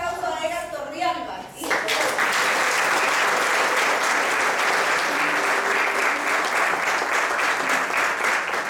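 At an evening cultural concert in Sanare, Lara, Venezuela, a voice with music behind it gives way to a sudden burst of strong crowd applause that stays loud and dense for several seconds.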